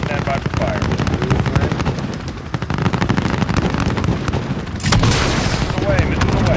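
Gunship fire rains down on troops in Call of Duty: Modern Warfare, a dense stream of rapid cannon and machine-gun bursts that swells louder near the end, with radio chatter running underneath.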